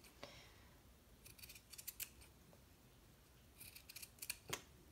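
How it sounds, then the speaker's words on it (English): Scissors snip through fabric in two short clusters of crisp cuts, close and quiet against a faint background hiss. "And I'm just gonna kind of cut along here."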